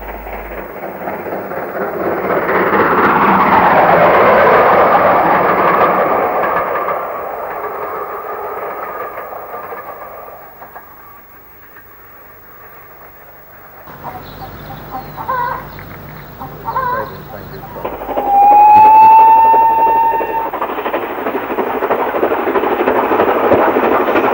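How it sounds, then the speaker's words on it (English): A train passes through the closed Llanrhaeadr station without stopping, its loud rumble building and fading, then a quieter stretch with a sharp squeal or whistle and renewed rumbling toward the end. "At Llanrhaeadr station, both up and down trains pass without stopping"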